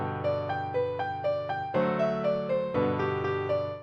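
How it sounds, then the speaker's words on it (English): A short folk-song-like melody, used as a demo for music AI, plays as evenly spaced synthesized notes over a steady pulsing low accompaniment, with a chord change partway through and no voices. "The original melody sounds like this."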